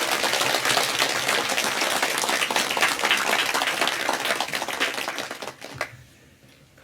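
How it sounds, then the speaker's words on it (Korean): A church congregation at a Christmas service claps together in a loud, dense, sustained round of applause that fades out near the end. "지금 할 박수는 우리를 위해서 이 땅에 오신 예수님을 향하여 하나님께 영광 돌리는 박수 우리 한번 하겠습니다"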